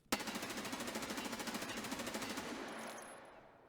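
An M4 rifle in a video game fires a fast, even burst of automatic rounds with controlled recoil, roughly twenty sharp shots in quick succession, then a fading tail. Quiet overall, with no talking.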